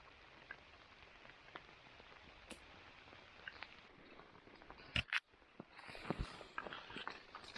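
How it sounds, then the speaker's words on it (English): Steady rain patters through a spruce forest in the Cranberry Wilderness, West Virginia, a dense continuous hiss dotted with sharp individual drips and a few louder close knocks. "Now the rain is back with a vengeance."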